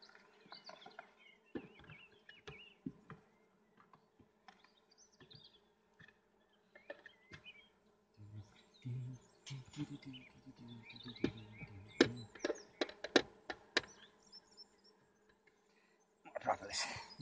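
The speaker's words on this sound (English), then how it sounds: "You can't believe how quiet these bees are." Irish honey bees buzz softly around a hive during an inspection, a low steady hum broken by scattered clicks and handling noises, with occasional quiet voices.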